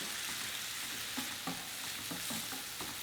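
Yaki udon noodles sizzle hard in a hot pan, a dense continuous hiss with a few soft clacks and scrapes as they are tossed, close and steady throughout.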